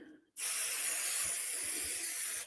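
A can of spray is applied to sewing fabric for a bag project: one continuous, close, bright hiss of about two seconds that starts and stops sharply.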